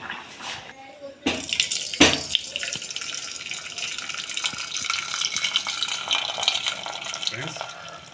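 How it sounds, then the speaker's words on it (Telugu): Water drained from cooked dal splashes and trickles steadily into a pot, a continuous pouring sound with a few louder splashes early on. "వాటర్ అంతా తీసి ఇంకో పాత్రలో పోయేసుకుంది"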